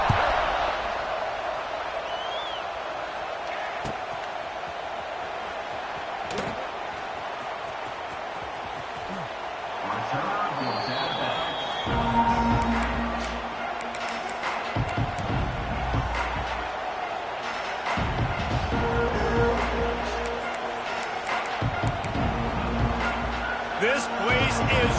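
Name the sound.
stadium crowd roaring in a football video game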